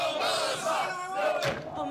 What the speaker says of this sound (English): there's a crowd of people outside protesting